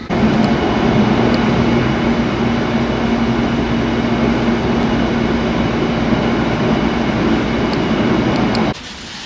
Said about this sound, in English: departing now, we have the Metropolitan line train we were just on